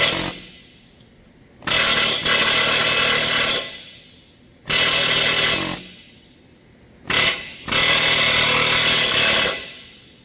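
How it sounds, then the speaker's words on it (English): An air hammer works on forklift mast rollers: three long, loud, rattling bursts of two to three seconds each separated by brief pauses, close and without talk. "assuming you have a pretty quality air hammer, you can, most of the time, just air hammer these rollers off fairly easily."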